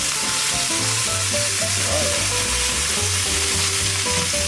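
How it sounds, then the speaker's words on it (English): Rockfish pieces sizzle loudly in a pan of boiling olive oil, a dense, steady crackle and hiss that continues throughout, close up, with faint clinks and no speech. "We're going to toss it into the pan with the boiling olive oil."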